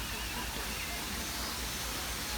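A waterfall near Puerto Plata in the Dominican Republic gives a steady, even rush of falling water, a soft continuous hiss that stays level throughout and sits at moderate distance.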